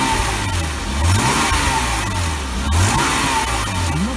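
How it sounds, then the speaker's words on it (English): A Jaguar XJ 3.2 Sport X300 engine revs up twice, swelling and dropping back to a steady idle between bursts, close by with no talking. "Just a bit of a rev, not too much."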